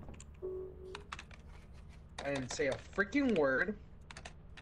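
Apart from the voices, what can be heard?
typing on a loud computer keyboard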